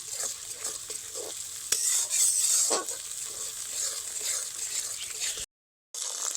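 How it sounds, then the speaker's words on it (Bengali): Ginger garlic paste stirred with onions in a pan, a soft continuous sizzle with scraping stir strokes and a brief dropout near the end. "আদা রসুনটাকে পেঁয়াজের সঙ্গে আবারও দু মিনিট মতো নেড়ে নেব"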